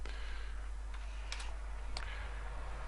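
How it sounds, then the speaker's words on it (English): Typing on a computer keyboard: a few faint, scattered key taps under a loud, constant electrical hum, with no speech. "I'm going to go to Google and type in date and time"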